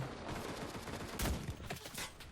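Machine gun fire in the World War II shooter game Enlisted, a faint, distant, dense rattle of bursts and scattered shots, with a couple of louder cracks breaking through.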